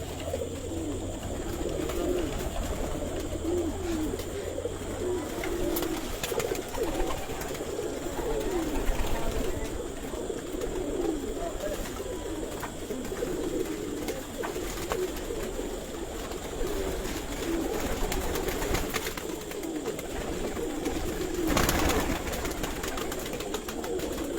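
Pigeons coo repeatedly on a rooftop, soft low throaty calls overlapping throughout amid steady outdoor background noise.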